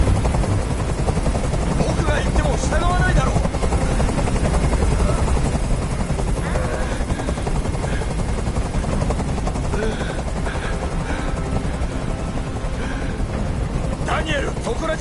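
A helicopter hovers overhead in the video game Detroit: Become Human, its loud, continuous rotor thrum dominating the scene while a voice speaks over it.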